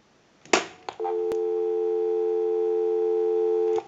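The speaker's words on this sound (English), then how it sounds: "We'll call my number and it'll be busy." A click and clunk on a Western Electric 236G payphone, then a steady electronic busy signal holds for about three seconds before cutting off.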